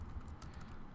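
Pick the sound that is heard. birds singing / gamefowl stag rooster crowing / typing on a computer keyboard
typing on a computer keyboard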